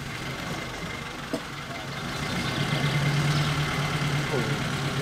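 A 1929 Citroen C6 with a six-cylinder engine idles in a steady low rumble that grows slightly fuller partway through, with people talking nearby and a brief knock early on.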